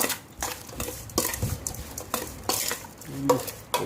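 Pork skin and garlic sizzling and being stirred in a hot pan, with scraping and clattering of a utensil against metal in quick, uneven bursts.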